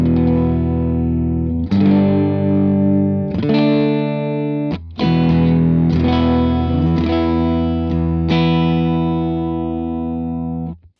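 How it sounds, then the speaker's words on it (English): Electric guitar played through a Tweed Bassman copy amp, a run of sustained chords and notes with slightly driven harmonic tone, close and loud, no talking. "I'm using my Sugar guitar into a Tweed Bassman copy."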